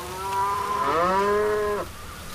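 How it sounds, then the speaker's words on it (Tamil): Cattle low in a long, loud, close moo that swells, bends in pitch and then cuts off, heard alone over faint outdoor background. "என்ன மாடுகள் எல்லாம் இன்றைக்கு வேலைக்கு வருதுகள்?"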